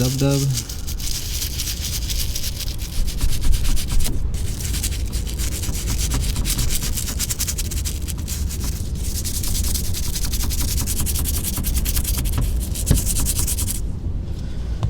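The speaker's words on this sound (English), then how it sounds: "now with the bristle brush, I guess it's much more difficult with one hand, but we shall make it work" A bristle brush scrubs a leather car seat in the interior of a 12-year-old car, a steady close rubbing and scratching that runs throughout with brief pauses.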